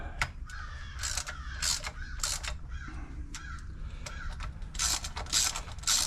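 A torque wrench ratcheting bolts down on a riding mower's camshaft, giving bursts of quick metallic clicks close up, with short pauses between the runs.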